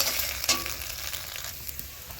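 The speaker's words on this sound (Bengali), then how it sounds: "আজ ভেজে নিয়ে তারপরে জল দেব" Maggi noodles fry in a kadai with a dense, steady sizzle and crackle, close up, joined by a couple of brief stirring clinks early on, with no talking.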